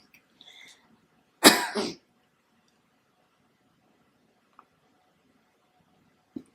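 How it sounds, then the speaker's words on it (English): A single harsh whooping cough bursts out close up in an otherwise quiet room, followed by a few faint clicks. "This 100-day cough's really messing me up."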